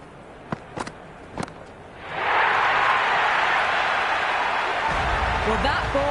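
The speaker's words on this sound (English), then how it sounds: "It's pretty noisy at the ground." Crowd roar at a cricket ground in the video game Cricket 26 during a PBKS vs RCB match: a few sharp knocks, then a loud, steady wash of crowd noise that swells and holds to the end.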